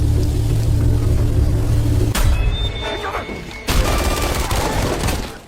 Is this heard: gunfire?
yes